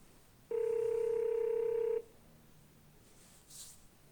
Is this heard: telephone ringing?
yes